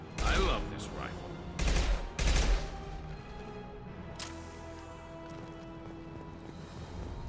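Rifle fire in the sci-fi shooter Mass Effect 2 comes as a few heavy, booming bursts over a humming ship ambience, with lighter crackles and impacts in between and no talk.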